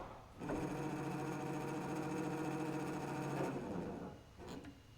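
A steady mechanical whirring hum runs for a few seconds, then cuts off, followed by faint clicking as a car lift settles onto its locks.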